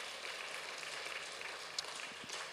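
Congregation clapping together at a Friday evening church worship service, a dense steady patter of many hands at moderate distance, sustained evenly throughout.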